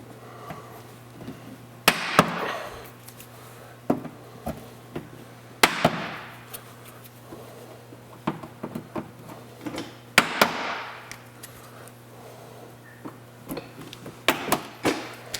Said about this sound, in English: then we'll just go back with our body peg puller and remove these.